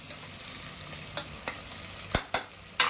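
Two onions browning in oil with garam masala sizzle steadily, broken by several sharp spoon scrapes and knocks against the pan toward the end; close, with no voices.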